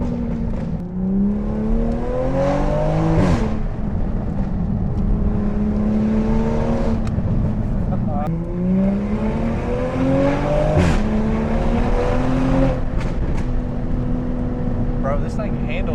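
A BMW B58-engined Toyota Supra driven hard, its engine droning loudly and steadily from inside the car while rising and falling through repeated revs and gear changes, with a voice speaking over it.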